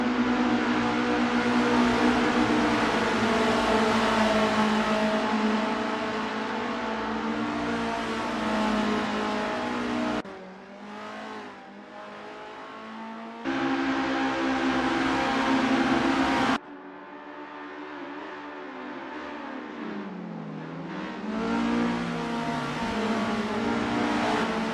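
An Isuzu Bellett GTR racing at Sportsland SUGO in Assetto Corsa, its engine loud and continuous as it revs through gears with sudden drops on shifts and lifts, no voices.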